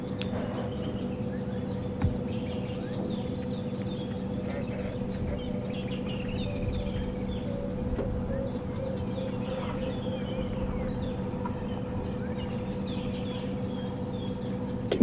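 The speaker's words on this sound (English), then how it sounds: "Can you hear the little bird alarm calls all around that have spotted her?" Repeated thin, sharp chirps from small birds giving alarm calls on a safari drive, scattered all around at moderate distance over a steady low engine hum, with no talking.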